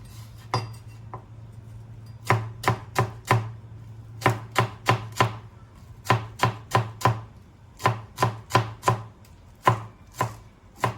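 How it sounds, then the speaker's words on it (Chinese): A knife chops spring onions on a board in quick bursts of four or five crisp, close strikes, separated by short pauses, with no talking. "葱的话就直接切成葱花。"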